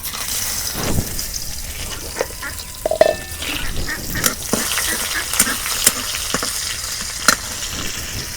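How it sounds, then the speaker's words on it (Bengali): Chopped onion drops into hot oil in a village kitchen, giving a close crackling sizzle broken by sharp pops and stirring clatters, with no talk over it. "তেল গরম সে এখন দিয়ে দেবো পেঁয়াজ কুচি।"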